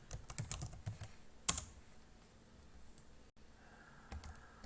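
Typing on a computer keyboard during a Linux Knoppix session, a brisk run of clicky keystrokes that thins into a few scattered taps over a quiet room background.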